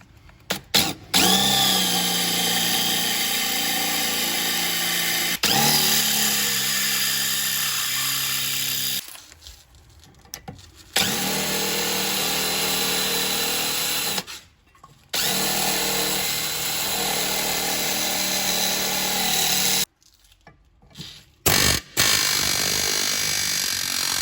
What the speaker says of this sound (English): we're just gonna drill the pan head off of this essentially.